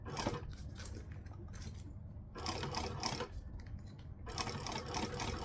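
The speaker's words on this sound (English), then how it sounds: "I'm just going to sew with my stuff at the 1/2 inch line" A sewing machine runs in several close bursts of steady stitching as fabric is sewn along a half-inch seam line, with short pauses between runs and no speech.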